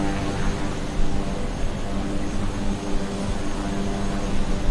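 A Kodiak 100 turboprop in Microsoft Flight Simulator hums steadily on the runway before departure, a loud, continuous engine drone with even tonal bands and no talk.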